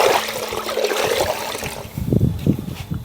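Rinseless wash water splashes and drips as a sponge is lifted from a bucket, a loud wet gush at first, then scattered trickles and drips falling back into the water.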